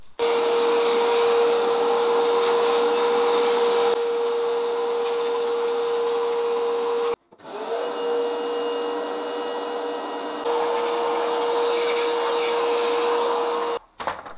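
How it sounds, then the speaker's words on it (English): An anti-static vacuum cleaner running inside a Ricoh MP2001 copier, a loud steady whine with a constant tone, cutting out briefly twice as the nozzle moves, close and alone. "Clean the inside of the copier with an anti-static vacuum cleaner."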